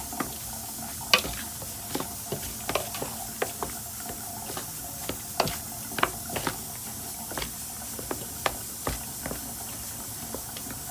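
Seasoned chicken, including garlic powder, being mixed by hand, giving soft wet squelching and patting at an irregular rhythm over a faint hiss, close and with no speech.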